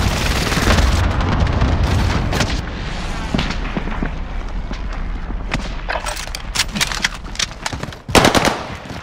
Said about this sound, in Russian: Бросаю осколочную!